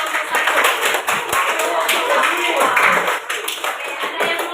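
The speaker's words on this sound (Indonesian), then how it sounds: "tepuk tangan untuk kelompok satu" Classroom applause for a student group: a dense, steady burst of many hands clapping together for a few seconds, with voices mixed into the noise.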